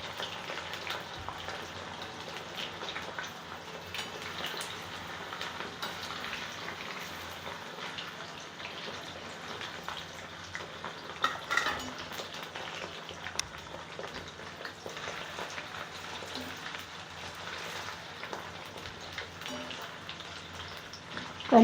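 Yam, elephant foot yam and sweet potato deep-frying in oil give a continuous, even sizzling crackle with occasional sharper pops, steady at moderate level across the whole stretch and free of speech.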